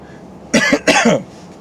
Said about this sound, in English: That's just a cough now. That's my night cough coming in.